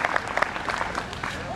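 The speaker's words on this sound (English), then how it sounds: "While people were cheering" A crowd applauds and cheers at a celebration for a new shopping center in Roseville, with dense, steady clapping and scattered shouts over a murmur of voices throughout the short stretch.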